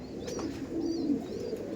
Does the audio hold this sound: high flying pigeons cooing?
yes